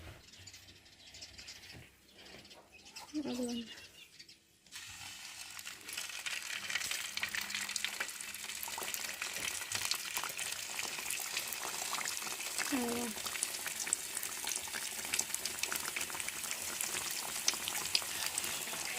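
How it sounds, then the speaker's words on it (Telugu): Egg puffs frying in hot oil, a dense bubbling sizzle that swells in after a few quiet seconds and then holds steady, with brief voices in the background. "లోన ఫ్రై అవుతా ఉన్నాయి"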